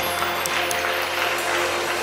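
Church congregation at a Mamre class gathering in Lau Baleng claps, a dense, steady wash of applause filling the whole short stretch at even loudness.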